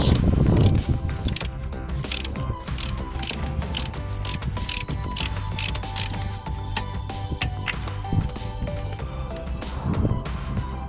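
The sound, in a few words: ratchet tightening a car axle nut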